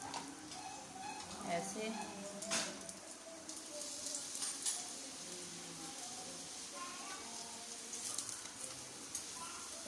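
A chana dal paratha frying in ghee on a pan gives a soft, steady sizzle, quiet and close, while a person talks over it.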